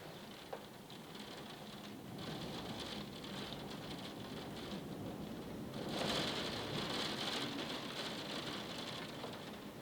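Steady rain patters on surfaces outdoors in Ireland, a soft continuous hiss with scattered drops that swells a little louder partway through, with no voices.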